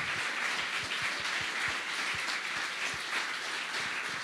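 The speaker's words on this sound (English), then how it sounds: "Round of applause." An audience at a hackathon closing ceremony in Berlin applauds a prize winner, a dense, steady wash of many hands clapping that holds at an even level throughout.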